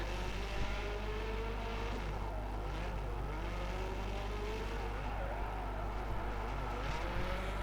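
A Citroen WRC rally car races through a stage of the Rajd Świdnicki Krause rally, its engine a loud, steady roar with shifting pitch as it passes, dense and continuous throughout.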